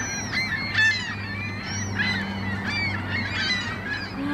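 Many geese honking continuously outside a Walmart in Toronto, a noisy flock calling over one another among gulls, with a steady low hum underneath.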